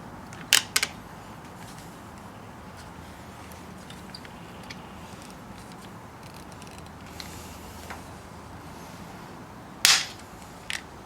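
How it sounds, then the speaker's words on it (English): A pop rivet gun sets rivets in a 1973–87 Chevrolet C10 vent window, giving sharp metallic snaps near the start and again near the end, close and loud against a quiet workshop background. "Pushing down, squeeze the pop rivet."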